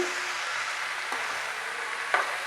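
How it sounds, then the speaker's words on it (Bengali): Teasel gourd and potatoes frying in a pan are stirred with a spoon, giving a steady soft sizzle broken by a couple of sharp scraping clicks, close and alone with no talking. "আমি লবণটা দিয়ে দিলাম একটু নেড়ে দিচ্ছি ভালো করে নেড়ে দিচ্ছি"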